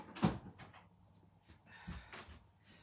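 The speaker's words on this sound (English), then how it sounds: "I'm just going to shut the door, Neil, because I don't want to hear her." A household door shuts at home with a sharp thud near the start, followed by softer rustling and faint handling noises.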